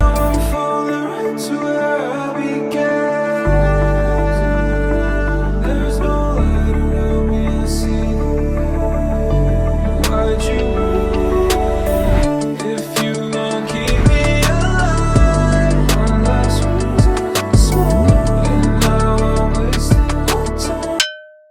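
A full self-produced song plays back: a dense mix of deep bass, drums and layered melodic parts, loud and continuous, with shifting sections and a quick fade at the end.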